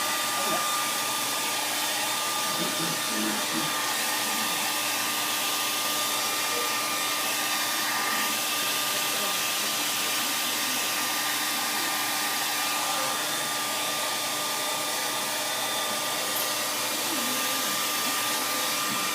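A hair dryer blows continuously at close range, a steady high-pitched whirring roar with a faint tonal hum, running without pause.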